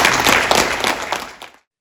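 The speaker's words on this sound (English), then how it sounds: "please give a round of applause for our wonderful Comic-Con volunteers" Short burst of audience applause at a Comic-Con panel, steady dense clapping that tapers and stops abruptly.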